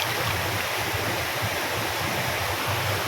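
Steady broadband rush of clear water flowing at Thirubali waterfalls in Ezhakkara, a constant close wash of falling and running water with no voices.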